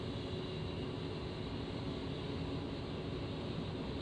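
Steady, loud jet engine drone from both engines of an A-10C II running at ground idle in DCS World, a continuous broadband roar holding level throughout with no talking.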